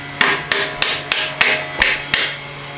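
Hammer strikes driving a bolt into a 1978 Honda XL 175 engine: seven sharp, loud metallic blows at a steady pace, close by, with short ringing decays between them.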